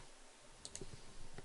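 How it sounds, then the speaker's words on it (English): Computer mouse clicks in a quiet room, a few sharp isolated clicks spaced apart at close range over low background hum. "You'll hear me mouse clicking."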